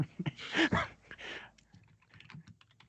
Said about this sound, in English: They have that mechanical keyboard in the back.